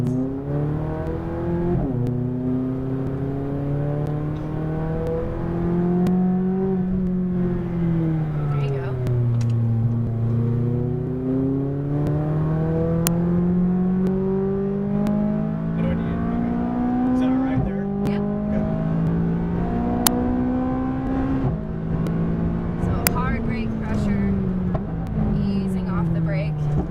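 McLaren 570S on a race track, engine droning loud and close with harmonics rising and falling through repeated accelerations and gear changes across the whole stretch, an instructor's voice talking over it.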